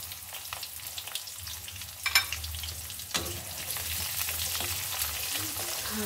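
Mustard seeds fry in hot oil while cooking garlic bhadang, a puffed rice snack, giving a soft steady sizzle broken by a few sharp crackling pops.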